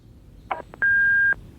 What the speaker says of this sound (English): Still has the corded phone in the living room. Answering machine too.